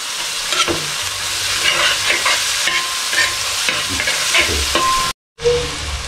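Onions sizzle and fry with salt in a pan, sent around by steady stirring scrapes for several seconds, with a short silent gap near the end before the sizzle resumes.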